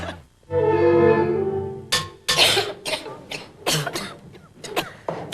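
A voice holds a drawn-out tone, then a series of harsh, wet coughs follows in irregular bursts, close and fairly loud.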